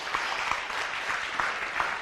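An audience at a meditation talk applauds in a steady, moderately loud patter of many hands, with a few sharper individual claps standing out.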